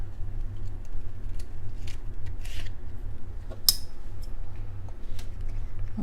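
Scissors trim a hand-based thumb spica splint along marked lines, giving a few sparse, crisp snips and cutting scrapes over a low steady background hum.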